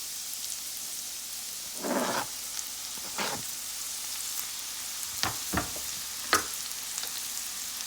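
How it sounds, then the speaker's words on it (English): Chopped onions frying in coconut oil give a soft, steady sizzle, broken by a few brief clattering stirs and taps in the pan, heard close with no talking. "Let's fry this up."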